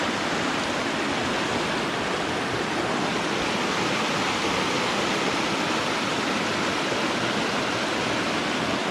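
Water pours over a river weir in Buncrana, a dense, continuous roar of rushing flow, close and steady with no breaks or voices.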